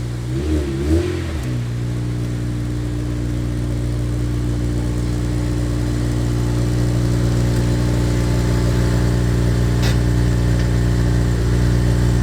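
A 2002 JDM right-hand-drive Honda EP3 Type R idles steadily after a brief blip at the start, a loud, close, continuous engine hum with no talking over it.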